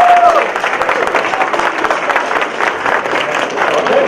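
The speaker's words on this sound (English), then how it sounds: "let's give her a round of applause for that" A crowd applauds steadily, dense clapping filling a room throughout, with faint voices mixed in.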